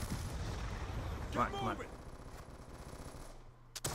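Gunfire during a Call of Duty Black Ops 2 Hardpoint match on Nuketown 2025, a steady rattle of automatic shots under a player's excited voice, fairly faint and mixed with game noise.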